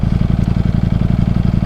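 A Ducati Panigale V4S superbike's V4 engine runs close and loud, with a rapid, steady pulsing throb and a fast, even firing rhythm and no talk over it.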